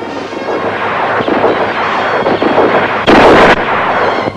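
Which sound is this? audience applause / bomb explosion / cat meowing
bomb explosion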